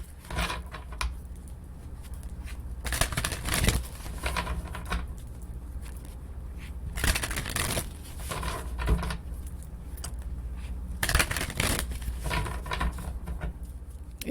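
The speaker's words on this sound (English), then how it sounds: "do a few shuffles." A Crow Tarot deck is shuffled by hand in repeated bursts: close, crisp papery riffles and slaps with short pauses between, and no voices.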